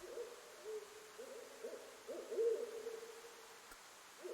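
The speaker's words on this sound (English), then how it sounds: "You get a little hoot sound." An owl hoot sound effect plays during a tabletop game session: soft, wavering repeated hoots at moderate distance over a faint hiss, no talking.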